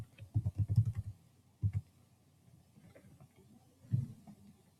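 Keyboard typing of a short class name: a quick burst of close, soft key clicks, a lone click after a pause, then a final cluster of keystrokes, with no talking.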